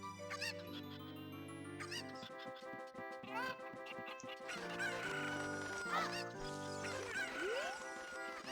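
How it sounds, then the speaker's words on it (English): Super cuccos, the chickens of the Ocarina of Time game, cluck and squawk in a dense, busy stream over lively game music throughout. "Here go the super cuckoos."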